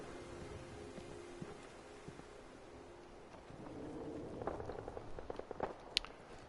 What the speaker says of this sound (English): the fighting is somewhere else and I can hear